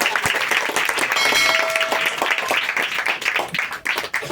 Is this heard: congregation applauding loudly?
yes